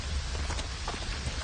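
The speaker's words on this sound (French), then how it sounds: "Tout ça juste pour quelques gouttes de pluie." Steady rain falls through a stormy night, a dense, even hiss of drops filling the whole clip at moderate loudness with no voices.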